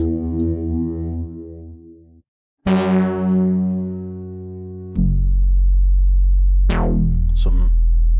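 A software synthesizer from a Cherry Audio plugin plays loud sustained tones with a phaser effect, several held notes with sweeping harmonics and a rising swoop near the end, played alone without speech.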